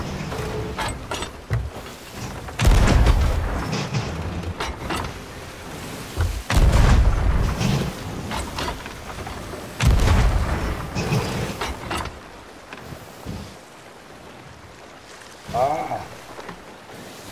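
Ship cannons fire broadside in the pirate video game Sea of Thieves, several heavy booming blasts at irregular intervals, each with a low rumbling tail, over creaking ship and water ambience.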